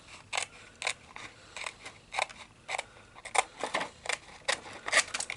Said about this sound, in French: je prends mon ciseau et je vais alors découper